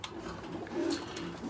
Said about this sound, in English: I'm gonna fly a kit of these birds